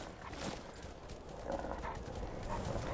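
Horse hooves clip-clop in a steady, fairly close rhythm over a busy background of rustling noise, with no voices, in the video game Skyrim.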